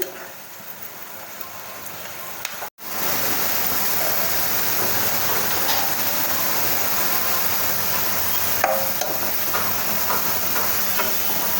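Chopped onions fry in oil in a pan for methi chicken, giving a steady, dense hiss of sizzling. The sound starts after a brief break and then holds at an even, fairly loud level.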